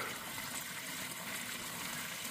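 Water spraying and gushing out while draining an old Ford truck into an oil drain pan, a steady faint hiss of liquid with no pauses.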